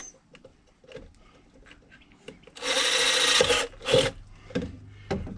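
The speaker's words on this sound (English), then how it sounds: "We're going to drill 4 holes around the top also" A drill boring holes into the top rim of a plastic bucket, a short close grinding whir lasting about a second, then a brief second burst, surrounded by light handling clicks and taps.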